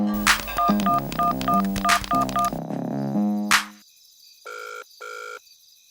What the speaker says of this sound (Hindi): उसका तो फोन अंदर बज रहा है